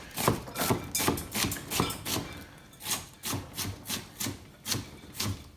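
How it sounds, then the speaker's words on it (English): Sweet onion chopped finely with a knife on a wooden board, a quick, uneven run of soft chops and scrapes, close and fairly quiet, with no talk. "sweet onion, chop that up fine too"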